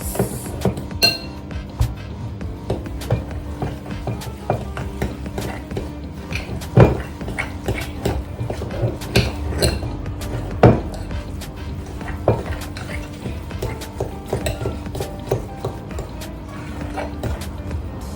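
Banana bread batter with butter is stirred in a bowl, giving repeated clinks and knocks of a utensil against the bowl at an irregular pace, close and moderately loud, with no talking.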